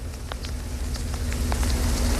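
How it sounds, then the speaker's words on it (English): A steady hiss of mixed sleet and rain falling outdoors in Medfield, with scattered sharper ticks of icy pellets striking surfaces throughout, fairly loud and close, with no talking. "we've got this sleet rain mix here in Medfield"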